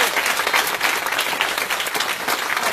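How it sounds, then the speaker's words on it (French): Loud, close crowd applause at an election campaign launch, continuous thick clapping with no pause throughout. "J'aimerais qu'on applaudisse Raymond Bureau"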